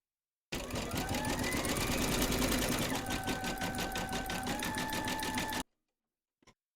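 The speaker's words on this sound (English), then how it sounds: "Load your matching bobbin and thread colour for the satin stitching around the edge of your segment into your machine, and then stitch round number 4." An embroidery sewing machine runs satin stitching around the edge of a hooped segment, a steady, close, rapid mechanical hum lasting about five seconds before stopping abruptly.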